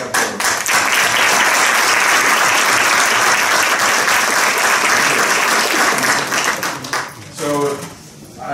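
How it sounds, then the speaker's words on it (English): Big audience applause at a Design for Europe conference, with dense, loud clapping from a large crowd held steady for about seven seconds before fading into a brief voice. "And let us give them a big applause."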